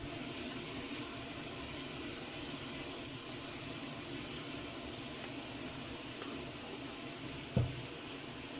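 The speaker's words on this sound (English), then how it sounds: "just a little bit of water" Water poured into a stew pot of pork ribs, chorizo, potatoes and lentils, a soft steady trickle lasting several seconds, with one brief clunk near the end.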